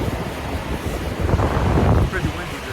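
Gusty wind roars and buffets the microphone at a snowy California truck stop in the early morning, with a low, steady rush and a few stronger swells.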